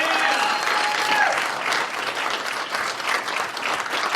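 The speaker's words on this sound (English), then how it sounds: "Let's give him a round of applause." Audience at a live podcast show in West Palm Beach applauds, a dense, even wash of clapping from many hands that stays steady and fairly close for the whole stretch, with no talk over it.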